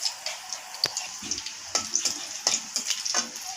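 Dried red chillies and kalonji crackle in hot mustard oil in a kadai, a close, steady sizzle broken by sharp pops and spits.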